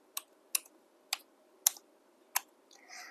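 Keys tapped one at a time on a computer keyboard while typing a short word in a Python lesson for kids, five crisp separate clicks at an uneven pace followed by a soft rustle, close and clear with no talking.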